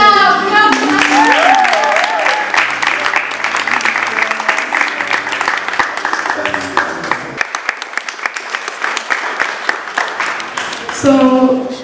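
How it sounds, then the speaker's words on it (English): An audience claps for a guest speaker at a talk, the applause dense and sustained at first, then thinning into scattered individual claps before a voice comes in at the end. "So clap for her."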